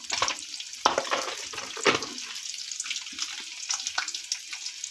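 Sizzling frying in a pan during home cooking, with crackling hiss and a few sharper stirring scrapes rising over it, steady and close without any talking.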